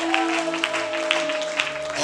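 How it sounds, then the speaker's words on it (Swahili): A church congregation claps in a steady rhythm during worship, the sharp claps landing about every half second over a sustained keyboard tone, moderately loud and close. "Piga makofi tena kwa jina la Yesu."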